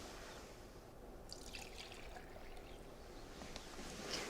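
Vegetable oil pours in a soft, thin trickle into a measuring cup in a home kitchen while cake batter is being made, a faint, steady liquid stream lasting a few seconds with no talking.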